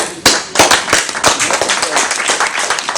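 Clapping from a small group of people, a burst of sharp irregular claps that starts after a brief pause and carries on steadily, close and fairly loud, with voices mixed in.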